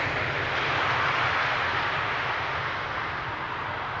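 A jet airliner on final approach to Amsterdam Schiphol's center runway makes a steady, loud, broadband roar throughout, with no talk over it.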